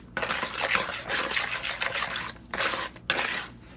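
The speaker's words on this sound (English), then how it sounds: "Mix it some more." Banana muffin batter being stirred by hand in a bowl, with an egg just added: a steady run of soft scraping and clinking strokes, close and continuous, broken by two short pauses.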